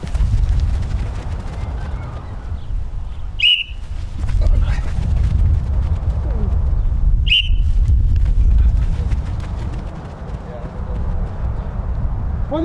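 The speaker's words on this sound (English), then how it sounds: "wait for the whistle" A coach's whistle starts a run at a pre-season football training session: two short, sharp, high blasts a few seconds apart, rising above a steady bed of outdoor noise and voices.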